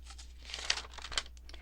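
Paper junk mail envelope being cut open along one side, a short close rustle of crinkling and tearing paper with a couple of sharper snips, quiet room, no talking.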